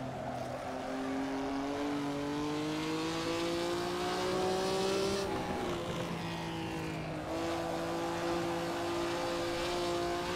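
Ferrari lapping Laguna Seca in the Assetto Corsa racing game, its engine droning steadily at high revs with rising and falling pitch through gear changes, loud and continuous with no talk.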